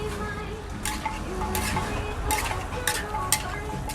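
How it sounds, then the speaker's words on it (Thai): Freshly chopped raw shrimp being stirred and mixed with other ingredients in a pan, a steady scraping and stirring with soft sizzling underneath and occasional brighter utensil scrapes, close and moderately loud. "ขณะนี้เราก็คลุกเคล้า ส่วนผสมต่างๆให้เข้ากันกับกุ้งสดที่เราเพิ่งสับเข้าไป"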